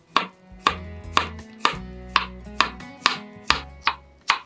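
Cabbage being sliced into thin strips with a knife on a cutting board, about nine sharp, evenly paced chops up close with no talking, while soft background music plays.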